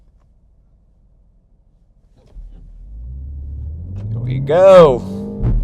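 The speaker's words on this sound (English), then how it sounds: "let's do a 0 to 60 with a Mini JCW hardtop" A 2025 MINI Cooper JCW hardtop (F66) launches from near silence into a rising engine rumble that climbs in pitch as it accelerates hard from 0 to 60 mph, with a short spoken line at the start.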